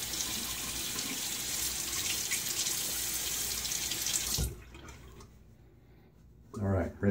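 Tap water runs steadily into a sink for rinsing during a wet shave with a Parker 98R razor, then cuts off abruptly, followed by a brief gurgle or splash near the end.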